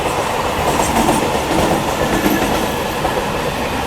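A Mumbai local train runs on the parallel track beside the Rajdhani Express, heard from inside the moving express as a loud, steady rumble of wheels and rails with faint clatter throughout.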